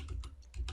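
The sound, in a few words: typing on computer keyboard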